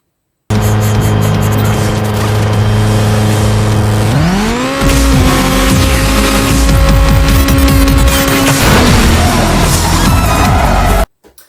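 Racing cars in Need for Speed on the Wii roar loudly, engines revving and climbing in pitch with tire noise and game effects, steady and dense before cutting off abruptly near the end.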